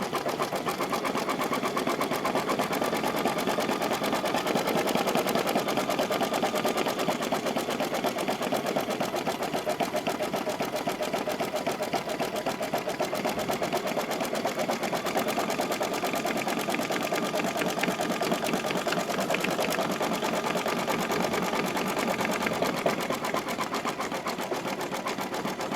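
A computerised embroidery machine stitches applique over the edge of a tea towel, producing a loud, continuous rapid needle chatter with a steady mechanical rhythm close by throughout, with no speech.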